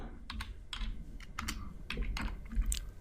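Rapid keyboard typing while entering Java code, a dense run of close, crisp key clicks with brief pauses, fairly quiet and with no voice over it.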